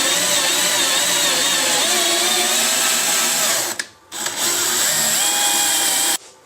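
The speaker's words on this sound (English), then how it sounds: "We're going to drill a clearance hole behind that." A power drill bores a clearance hole through an aircraft wing part during a wing restoration, a loud steady whine running for nearly four seconds, cutting out briefly, then resuming before stopping.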